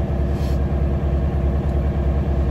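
A truck unit's engine running steadily with a low, throbbing drone, revved a little to build air suspension pressure while raising the suspension under a heavy load; close, constant and alone.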